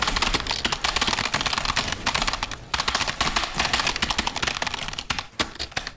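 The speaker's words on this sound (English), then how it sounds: "His keyboard is loud" Loud, rapid computer keyboard typing during Fortnite play, a dense stream of clattering keystrokes that runs almost continuously with only brief pauses, close and alone.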